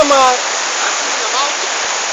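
Loud, steady rushing of an overflowing river fills the whole stretch, a dense roar of water that never lets up, with a brief voice at the very start.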